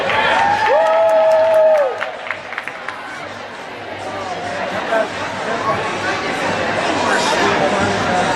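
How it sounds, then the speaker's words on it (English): Roller derby fans in an arena applaud and cheer between jams at a Dallas versus Kansas City bout, with a whistle and crowd chatter mixed into a broad, echoing wash of noise that persists throughout. "So definitely give yourself a round of applause out here."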